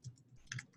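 Brief, light keystrokes on a computer keyboard, several quick clicks in an irregular rhythm, close and fairly quiet, with no talking.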